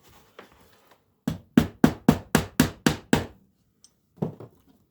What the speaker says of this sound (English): we'll put a wee nail in here. I can go and find the hammer